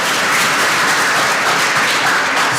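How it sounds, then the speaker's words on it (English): Dense, steady applause from an audience after a poetry performance at a youth talent day, a loud continuous wash of many hands clapping close by with no talk. "Big round of applause for the poetry."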